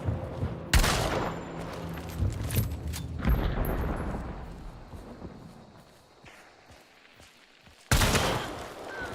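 Rapid bursts of gunfire from a video game, with several loud volleys and scattered shots mixed with footsteps and movement, ending in a sharp new burst.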